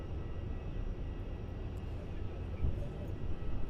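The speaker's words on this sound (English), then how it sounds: "some great angles there of this Malaysia 330 as it vacates runway 16" A Malaysia Airlines Airbus A330 vacating runway 16 at Melbourne Airport, heard from a distance as a steady, low jet engine rumble and hiss under outdoor wind noise.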